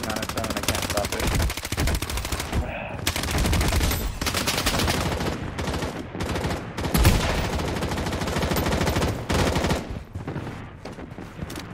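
Nonstop automatic gunfire from the shooter game Project: BloodStrike, with dense overlapping bursts rattling loudly and almost without pause, a few brief gaps, and no voices over the shooting.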